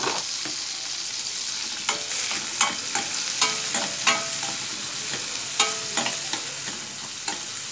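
Okra curry with onion and slit green chili frying in a pan, a continuous soft sizzle broken by repeated scraping clicks of a stirring spoon, close and unaccompanied by speech.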